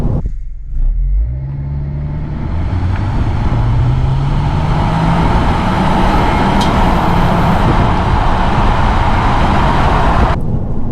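A 2022 Honda Civic Touring accelerates steadily with loud, continuous engine and road roar, its pitch rising smoothly and briefly dipping at quick simulated gear shifts.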